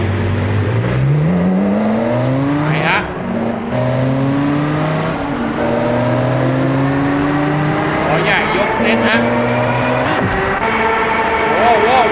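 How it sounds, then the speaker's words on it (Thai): A V10 car engine in BeamNG.drive revs and climbs through its range, its tone rising and falling with gear changes, loud and continuous while someone talks over it. "ส่วนผมขับคันนี้เองครับ เครื่อง V10"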